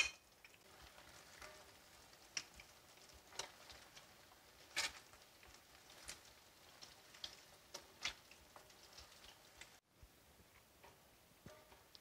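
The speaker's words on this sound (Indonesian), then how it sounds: "Kita goreng sampai golden brown." Tofu frying in hot oil, a faint, steady crackle with scattered small pops and ticks over a quiet hiss, heard alone without talk.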